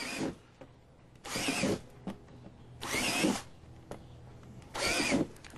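A power drill bores into material in four separate bursts, each about half a second long, with quiet gaps between them, close and clear.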